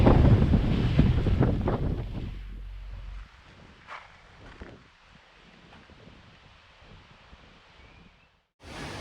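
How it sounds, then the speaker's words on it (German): Heavy gusting wind buffets the microphone by the Baltic Sea coast, loud and rumbling at first, then easing to a steadier blustery roar with brief lulls. "auch wenn der Wind ganz schön pfeift"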